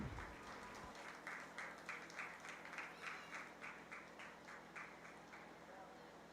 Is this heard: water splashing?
no